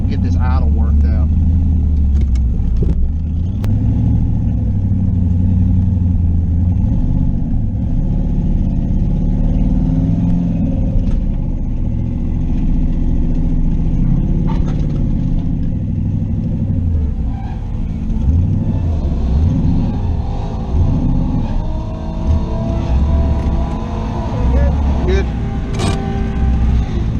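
A twin-turbo third-generation Camaro idles roughly at a track day, its deep, uneven, loping rumble loud and close throughout, with voices talking over it.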